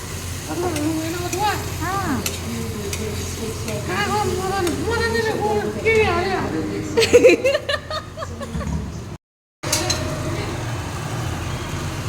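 Mutton with saag, garlic, cumin, ginger and spices cooking in a pan, with a steady sizzling and stirring texture under nearby women chatting and laughing throughout.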